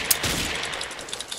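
Gunfire in the blocky shooter Ace of Spades: a dense volley of shots with a sharp crack near the start, then scattered quicker pops through a busy, noisy game mix.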